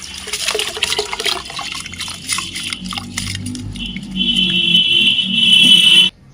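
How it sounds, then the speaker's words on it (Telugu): Water being poured off soaked rice for a Telangana-style clay-pot mutton biryani, a gurgling splashing stream that swells into a steady pour and then cuts off abruptly. "తర్వాత ఇలా వాటర్ వంపేసుకోవాలన్నమాట"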